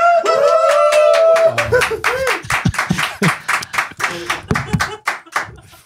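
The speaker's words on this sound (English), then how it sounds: "Big round of applause, guys." A studio crew bursts into loud, dense clapping and cheering after a 100-episode recording milestone, with shouts and voices mixed through the opening before the claps thin into scattered sharp hand slaps.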